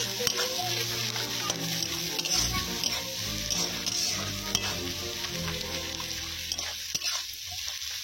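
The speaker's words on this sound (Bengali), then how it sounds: "পেঁয়াজগুলো হালকা ভাজা হয়ে গেছে, এরপর লঙ্কা কুচি দিয়ে" Lightly fried onions sizzle in a pan as chopped chilli goes in, with constant close frying hiss and irregular stirring scrapes and taps throughout.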